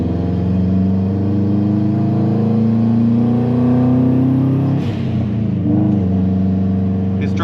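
A Subaru WRX drives and accelerates with a steady, loud mid-pitched engine drone and rising revs throughout, with a brief shift or dip in the engine note near the end.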